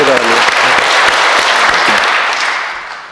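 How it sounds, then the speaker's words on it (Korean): A church congregation at a Sunday worship service claps warmly for two young volunteers, a short burst of close, dense applause that gradually fades. "박수해 주시기 바랍니다"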